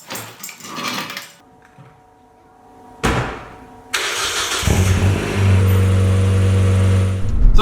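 Close-up car sounds: a door thuds shut, then the engine cranks and catches, settling into a steady running idle.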